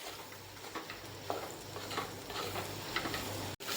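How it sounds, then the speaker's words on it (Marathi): Boiled soybeans fry with red chili powder and salt in a pan, giving a soft, steady sizzle with light stirring scrapes throughout. "लाल मिर्च पावडर घालायचं आणि थोडंसं मीठ घालून त्यात आपली उकडलेली सोयाबीन घालून तिला छान अशी फ्राय करून घ्यायची।"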